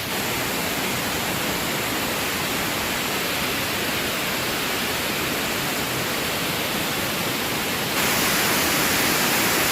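A river flowing between Mankulam and Deviyar rushes with a steady, loud, dense roar of churning water, continuous and unbroken, with no voices over it.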